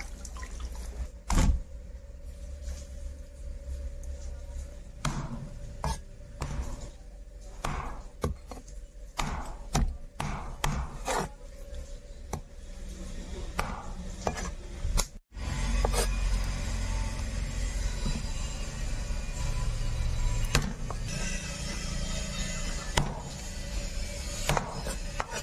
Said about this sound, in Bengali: এবার পিস করব।